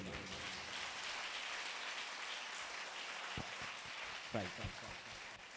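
A church congregation claps together, a dense steady wash of applause at a distance that fills the whole stretch, with a few sharper nearby claps and brief voices surfacing near the end.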